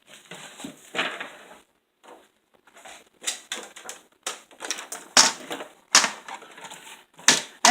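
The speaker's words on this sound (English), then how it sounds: "Then we're just going to cut our mat right quick." Card mat being trimmed for a handmade Christmas card: a series of close, crisp cutting clicks and paper scrapes in irregular rhythm, no speech.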